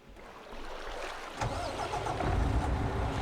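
A MAN truck engine in Farming Simulator starts up and settles into a steady mid-pitched running note that builds slightly, close and fairly quiet, with no talk.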